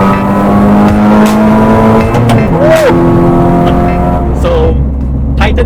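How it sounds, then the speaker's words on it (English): A race-ready Proton Satria Neo R3 engine revs loud and raw throughout, its pitch rising and falling in a continuous close roar, with no one talking. "you can hear that this car is obviously more noisy and more raw"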